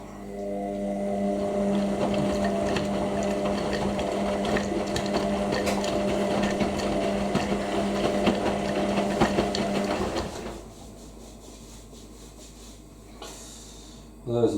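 An Indesit IWC6125 washing machine on a 90ºC cotton wash with a 1,000 RPM spin gives off a steady, droning motor hum for about ten seconds, then cuts out to near quiet, and a short knock follows at the end.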